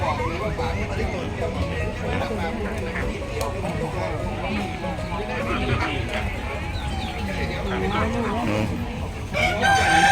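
Fighting cocks crow and cluck in pens at a busy agricultural fair, heard amid dense crowd chatter and nearby voices, with calls rising over the steady background noise.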